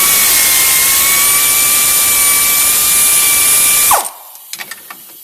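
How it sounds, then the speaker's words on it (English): Air ratchet with a 13mm deep socket loosening a brake cable bracket under a Jeep Wrangler Rubicon, a loud steady pneumatic whir held close for about four seconds, then stopping abruptly, followed by a few light metallic clinks. "So a 13mm deep socket on an air ratchet."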